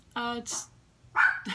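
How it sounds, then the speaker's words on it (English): Two quick bursts of dog barking at a squirrel, close and fairly loud, with a brief spoken word between them. "Excuse the dogs, they're barking at a squirrel right now."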